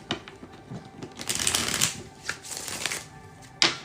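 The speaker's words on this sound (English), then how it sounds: "I didn't shuffle that enough." A deck of playing cards is shuffled close by in a rapid riffling burst, with crisp fluttering flicks that swell and fade over a few seconds and end in a sharp snap as the cards settle.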